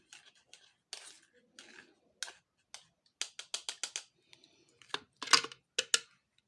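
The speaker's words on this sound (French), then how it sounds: "je mélange bien les ingrédients" Face mask ingredients for skin and hair are stirred together in a bowl: quiet, irregular clinks and scrapes of a utensil come in scattered short bursts with no talking.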